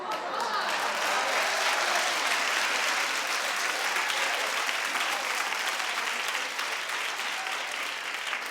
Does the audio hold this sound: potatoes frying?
no